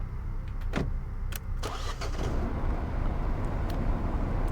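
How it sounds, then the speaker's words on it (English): A car engine starts up in a video game, with a few clicks and a cranking burst of noise that settles into a steady, broad engine rumble. "You turn your car key and drive away."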